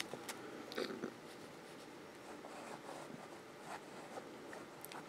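A Pilot Falcon fountain pen scratches across paper in short, faint strokes, a soft close scribbling with brief pauses and no talking.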